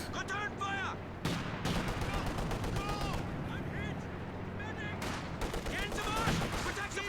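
Infantry LMG bursts mixed with other gunfire in a Company of Heroes 2 multiplayer battle, dense rattling volleys and heavy booms over continuous combat noise, with a commentator talking throughout.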